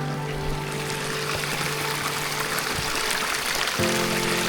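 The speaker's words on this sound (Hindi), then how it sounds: "ये ऊपर से पानी फ्लो होते हुए यहाँ पर लेक में आके मिलता है" A mountain stream in Spiti Valley flows steadily into a frozen lake at about -10°C, making a continuous rushing, trickling babble that stays loud and even throughout with no talking.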